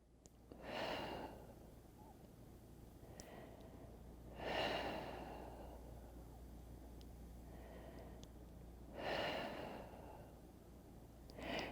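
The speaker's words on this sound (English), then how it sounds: "breathing deeply." Slow, deep breaths during a total-body floor stretch, four soft airy swells spaced a few seconds apart over a low steady hum, close and quiet with no talk.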